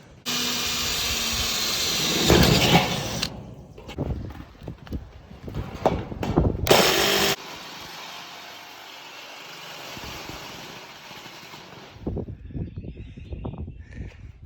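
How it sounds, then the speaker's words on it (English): Metal roofing on a workshop is cut to make an opening, giving loud, harsh bursts of power-tool cutting with broadband screeching that start and stop, alongside knocks and handling clatter, followed by a quieter stretch. "So now I have to cut a opening for this"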